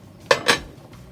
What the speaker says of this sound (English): The pumpkin is crushed and I'm gonna put it in the pot.